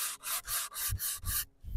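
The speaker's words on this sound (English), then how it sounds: "if you have the 60 grit sandpaper, and this is the high spot, you start in the middle and work your way out around the edges" A hickory self bow being worked with 60 grit sandpaper, giving close, loud, rhythmic rasping strokes, about six back-and-forth rubs in quick succession with brief gaps between them.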